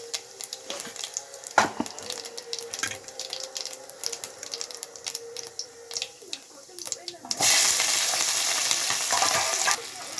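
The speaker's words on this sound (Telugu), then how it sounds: "కొంచెం బాండీలో నూనె పోసి అందులో పోపు దినుసులు అన్నీ వేయాలి" Tempering spices hit hot oil in a pan for egg rice, breaking into a loud, sustained sizzle near the end after earlier talking and soft utensil clatter.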